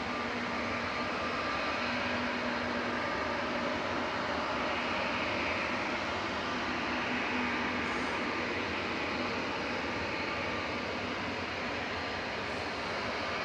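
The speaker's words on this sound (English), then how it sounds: "Next in is another prop coming in from Isle of Man, Logan Air, ATR 72, GLMTC flight 693." A Loganair ATR 72 turboprop arriving at Manchester Airport from the Isle of Man drones at moderate distance, a steady wash of engine noise with a faint propeller hum throughout.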